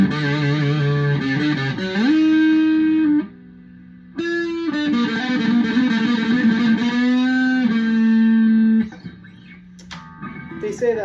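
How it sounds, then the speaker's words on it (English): A Firefly FFST electric guitar with a floating tremolo and locking nut plays sustained, heavily distorted notes and bends. The playing is loud and close, with a short pause partway through. "Tone's pretty decent. I like the distortion on it."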